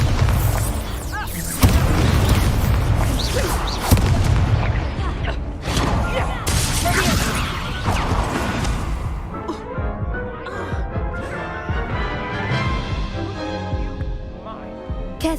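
Incendio fire spell cast during a duel in Hogwarts Legacy, played on a Steam Deck: loud whooshing bursts and deep booming impacts in quick succession, then fading into a lighter ringing tail, with a voice calling out amid the effects.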